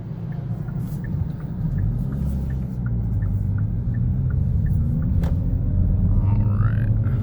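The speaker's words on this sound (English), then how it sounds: "Let this car go past us over here. The Subaru Forester." A Subaru Forester passing on the road, a low engine and tire rumble that builds and stays steady as it goes by, heard from inside another car over its own cabin drone.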